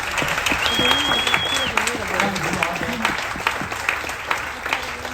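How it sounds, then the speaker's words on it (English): Audience applause on a cruise ship aboard the Disney Wish during its maiden voyage as a guest is called to the stage, sustained clapping with a host talking over it. "keep that applause going until she makes her way to the stage"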